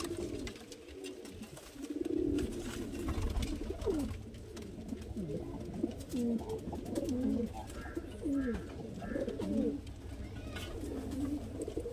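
Several Madrasi pigeons, including Jiria and Phulshira birds, coo in soft rolling phrases that overlap and repeat steadily across the whole stretch, close by, with no talk.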